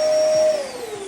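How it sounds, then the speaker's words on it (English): A workshop vacuum cleaner connected to a saw whines steadily and loudly, then its pitch drops as it begins to wind down. "It's connected to the vacuum cleaner, which is in here, so I can switch it on"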